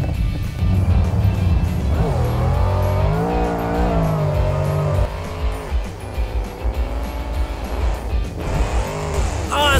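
A monster truck's engine revs hard as it drives fast, a loud, close roar that climbs and falls in pitch through several gear-like surges, with tire noise and a brief rise in power near the end.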